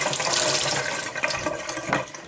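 Cold water runs steadily from a tap over cabbage being washed for sauerkraut, a close, continuous splashing hiss with faint irregular spatters.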